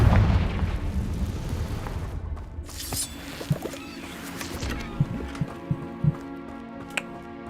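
A Confringo fire spell explodes in the Hogwarts Legacy video game: a deep, rumbling blast that fades into a low roar, with a few sharp crackling pops afterward.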